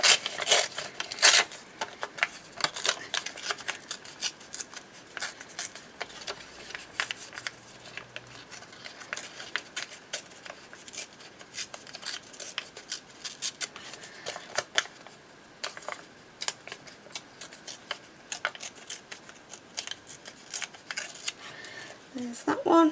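Paper ephemera being torn around stamps in a junk journaling session gives short, crisp ripping and rustling bursts close by, repeated irregularly throughout.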